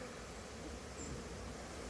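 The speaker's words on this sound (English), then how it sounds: "there's a bunch of bees in here." Steady low hum of a crowd of bees inside a six-frame nuc hive box, a continuous close buzzing drone with no talk over it.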